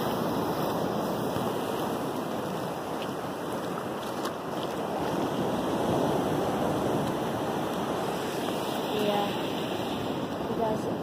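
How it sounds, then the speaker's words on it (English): Ocean waves at a beach during a vacation, a continuous broad rush of surf and wind noise buffeting the microphone, with a voice talking over it. "Look at all the dope waves behind me, bro."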